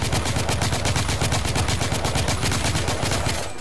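Rapid, loud bursts of gunfire from enemy shooters in the video game The Order: 1886, with evenly spaced automatic shots filling the whole stretch without pause.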